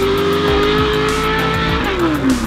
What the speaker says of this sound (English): This is my 2015 Rockstar Energy Drink Volkswagen Passat drift car, made specifically for Formula Drift.